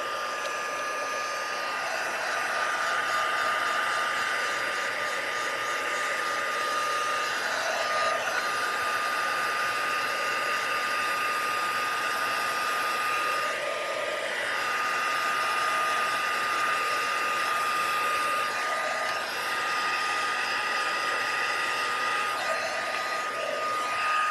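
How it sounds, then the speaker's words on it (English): A heat tool blows hot air over colored vellum with a continuous loud whirring hum of fan and motor, pitch wavering slightly as it moves, with no talking. "I'm going to go ahead and speed up the drying process by applying some heat to the heat tool"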